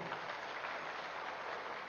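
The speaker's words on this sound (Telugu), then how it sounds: "డొనేట్ చేసే ప్రతి మాస్టర్కి గట్టిగా చప్పట్లు కొడదాం" Faint, steady applause from a crowd at the Dhyanamahayagnam meditation gathering in Tirupati, a soft, even patter of many hands heard from a distance with no talking over it.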